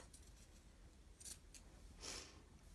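Scissors snip through yarn while trimming a crochet wall hanging, giving a couple of brief, quiet cuts over a soft background hush.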